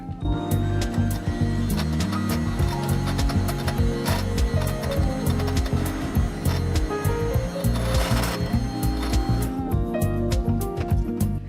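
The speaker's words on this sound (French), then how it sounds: "avec la mixette électrique, je vais battre jusqu'à temps que le blanc d'œuf devienne mousseux" Electric hand mixer beating egg whites until foamy for keto maple candied nuts, a steady loud motor whir with rattling, clattering beaters running continuously throughout.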